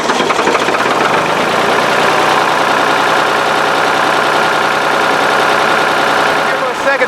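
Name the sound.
engine idling and warming up after a year unused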